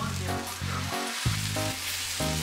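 Shredded pork with sauce, carrot and wood ear mushroom tossed in a hot wok, giving a steady sizzle with repeated scraping strokes and one sharper clank near the middle.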